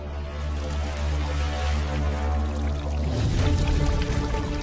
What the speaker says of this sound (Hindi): सिर्फ पानी तो बह रहा है